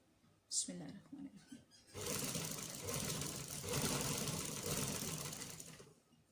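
A sewing machine stitches doubled fabric lengthwise for a jumpsuit, a steady, close, whirring run lasting several seconds after a brief spoken moment.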